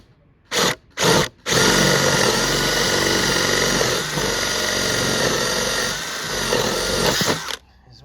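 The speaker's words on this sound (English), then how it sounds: "I'm going to do this with my jigsaw" A jigsaw cuts through wooden cladding for an insulated IBC tank pond, with two brief bursts and then a long, loud, continuous buzzing cut that eases off near the end.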